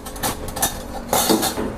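Metal spoons clink against cups and each other while coffee is prepared for tasting, a few bright clattering strikes in quick bursts, close and moderately loud.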